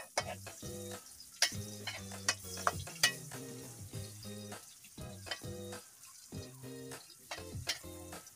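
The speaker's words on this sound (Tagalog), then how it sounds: "Igisa natin luya para mas masarap sa anong ginataan." Ginger is sautéed in a pan for ginataan, with repeated metallic stirring scrapes and clanks over a faint sizzle, close by and without any voice.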